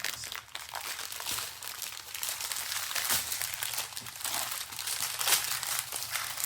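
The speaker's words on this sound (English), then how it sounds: "If you hate crinkling plastic, I'm very sorry." Plastic packaging from a diamond painting kit crinkles and crackles continuously up close, with irregular crisp rustles and small sharp crunches throughout and no talking.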